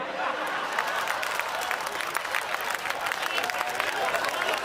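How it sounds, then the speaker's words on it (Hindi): An audience at a Hindi comic poetry gathering claps together, a steady wash of applause at moderate distance with some crowd voices mixed in. "ताली बजा दो बढ़िया से एक बार"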